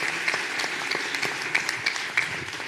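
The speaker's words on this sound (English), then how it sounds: "a big hand of applause to our distinguished panel" Steady applause from a conference audience for a panel, a dense patter of clapping with a few sharper claps standing out.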